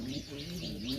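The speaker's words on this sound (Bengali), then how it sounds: "এই পায়রাটার আবার প্রচুর ডাক" A Jalali pigeon gives a brief, soft, low coo close by, with a faint voice in the background.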